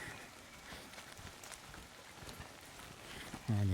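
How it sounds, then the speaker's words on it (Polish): Soft, steady rain patters on a surface nearby, quiet and continuous, with a brief louder thump at the very end, on a mountain trail near a chapel in the Little Beskids, Poland. "a coraz mocniej pada."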